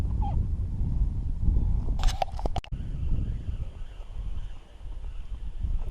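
Gusting wind over a lake around a small fishing boat, a constant low rumble broken by a brief burst of sharp knocks and clatter partway through, like gear striking the boat.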